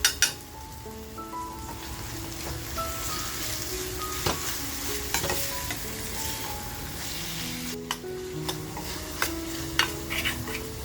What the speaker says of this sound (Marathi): आता आपण जो टॅमॅटो कापून घेतलाय तो टॅमॅटो टाकून घेऊया.